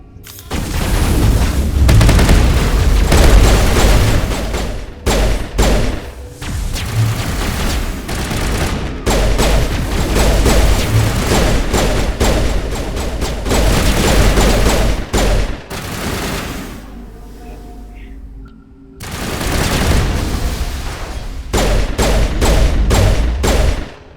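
Combat in Mass Effect Legendary Edition unleashes sustained heavy gunfire mixed with booming explosions, loud and nearly continuous, broken by a few short pauses and a longer lull before the shooting resumes.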